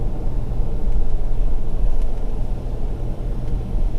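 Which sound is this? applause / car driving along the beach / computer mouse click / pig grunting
car driving along the beach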